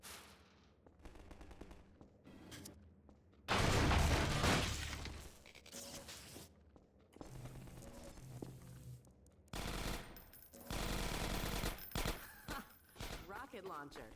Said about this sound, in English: Rocket launcher. That'll come in handy.